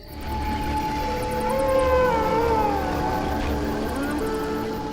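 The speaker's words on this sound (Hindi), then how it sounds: "यहाँ बहुत सारे भेड़िया हैं।" Long wavering wolf howls rise and fall over a steady low vehicle engine rumble, several voices overlapping at a distance for the whole stretch.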